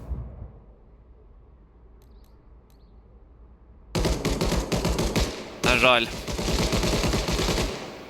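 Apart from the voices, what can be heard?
gunfire in a video game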